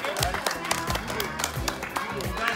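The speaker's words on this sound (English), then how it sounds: "Big round of applause." Applause and clapping from a youth team at a small fun tournament, scattered claps and crowd noise with children's voices talking over it, close and fairly loud for a few seconds.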